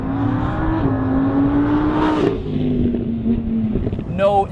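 A Lamborghini Huracan LP 610-4 engine revs loud and close, holding a steady high-pitched wail that rises and dips, with a brief burst near the end.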